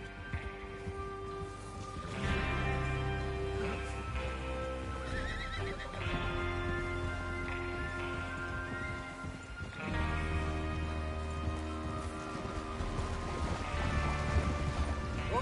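Horses whinny and snort over steady clip-clopping hooves, several animals close by, with layered game-style ambience and no speech, in Red Dead Redemption 2.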